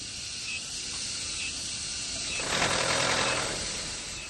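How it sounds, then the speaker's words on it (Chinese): At startup, a test car on a 10,000 km durability run gives an abnormal engine noise: a rough, buzzing burst swells for about a second over a faint steady background hum. "是在启动的时候有这样的一个异响。"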